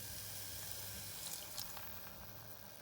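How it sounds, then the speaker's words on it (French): Water is poured into a pan of simmering tomato paste, giving a faint, continuous hissing trickle with no voices. "on va ajouter un petit peu d'eau"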